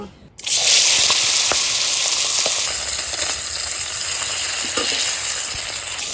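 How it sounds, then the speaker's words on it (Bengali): Hilsa fish head frying in hot oil for kochu shak, with a loud, dense crackling sizzle that bursts in suddenly after a brief quiet start and holds steady close-up throughout. "একটু তেল দিচ্ছি মাথাটা ভেজে নেব"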